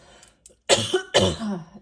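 Two harsh, close coughs follow a couple of faint throat sounds, loud and abrupt.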